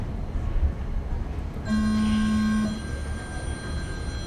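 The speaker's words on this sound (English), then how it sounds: "Somebody's phone's ringing." A steady electronic tone sounds once for about a second over a rumbling background at an RC car raceway, followed by continued low noise.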